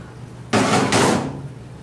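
A nut being tightened on a disc brake lathe while centering a rotor for machining. Two loud, close metallic rasping bursts come back to back, then fade into a quiet shop background with no voices.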